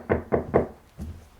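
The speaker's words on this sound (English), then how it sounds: "go knock on the door next door" Knocking on a door in a tabletop role-playing campaign session: three quick, loud raps in a row, a short pause, then one softer fourth knock, with no talking.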